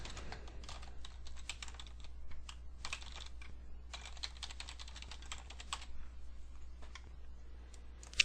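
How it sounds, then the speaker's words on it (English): Steady typing on a computer keyboard while entering a name and email to register for a tattoo website, with bursts of quick key clicks separated by short pauses, close and moderately quiet, no voices. "So I'll type in my name and email."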